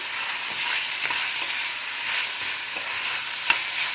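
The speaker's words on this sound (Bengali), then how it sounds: "একটু ভাজা ভাজা করে নেবো" Ginger-garlic paste fries in a pan, giving a steady, close sizzle with soft stirring scrapes and one sharp tap near the end, all without talk.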